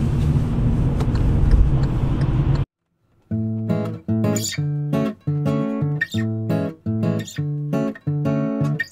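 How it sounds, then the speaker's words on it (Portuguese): Montreal road traffic rumbling as a dense broadband wash for a few seconds before cutting off, followed by a run of repeated, evenly spaced tonal pulses. "Olha o trânsito aqui, trânsito de São Paulo em Montreal."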